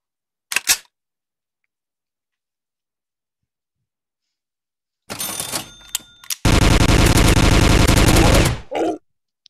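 Pistol fire in the zombie shooter game Zombie Warfare, a single early crack, then a few scattered shots and a dense rapid burst of loud gunfire lasting about two seconds before it stops abruptly.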